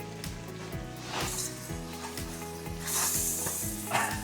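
Oil bubbling and sizzling in a pan while cooking chicken and butternut squash curry, a steady close crackle with repeated scraping stirs and knocks of a utensil against the pan throughout.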